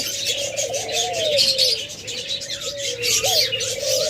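Caged doves coo in soft, low, repeated phrases at a relaxed rhythm, with lighter chirps from other birds scattered in the background.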